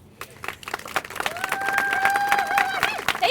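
A crowd at a county announcement event for a new lakefront library cheers and claps, building in loudness over a few seconds, with whoops and shouts rising above the applause.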